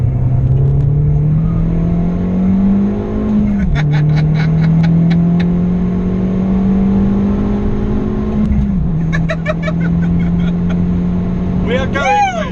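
A 250 BHP Fiat Abarth 595 accelerates hard, its engine note climbing through two gear changes with turbo flutter bursts between shifts, loud from inside the car while occupants talk and shout.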